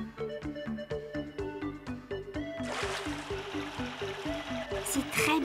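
Cartoon shower water sprays into a bathtub with a hissing, steady rush that starts a few seconds in and runs beneath bouncy, plucked music until the end.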